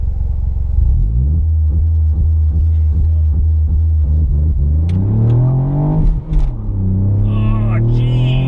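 A Ford Fiesta ST MK8 on a launch control start holds a steady revving engine drone, then pulls away with engine pitch climbing through the gears, loud and close from inside the car.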